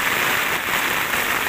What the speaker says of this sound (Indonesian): Hujannya sangat besar sekali.